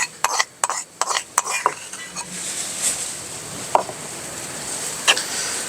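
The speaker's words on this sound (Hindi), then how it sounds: "इसको भी अच्छी तरह मिक्स कर लेंगे।" Spoon stirring roasted tomato, kalonji and cumin paste with a little oil into a tomato chutney in a pan, several sharp metallic scrapes and taps at first, then softer occasional knocks over a faint background.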